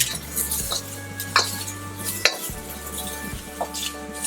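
Shrimp with a little salt frying in a few tablespoons of oil in a wok, with a soft sizzle under clinking utensil and metal scrapes, plus a low steady hum.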